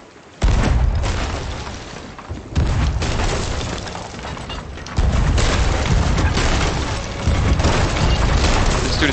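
Heavy cannon fire in a video game fort battle, loud booming blasts in quick succession with dense rumbling bursts layered over one another, sustained and near, with no clear talk.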